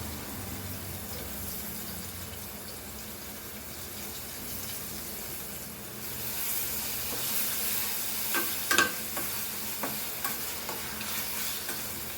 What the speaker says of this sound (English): पोटॅटोची साली भाजून घेऊया